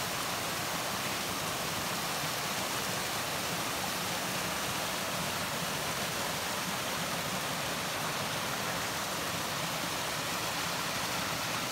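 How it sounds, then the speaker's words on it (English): A waterfall by Hardy Lake in Algonquin Park roars as a steady, broad wash of falling water, constant and uniform, with no voices. "coming into an awesome waterfall here"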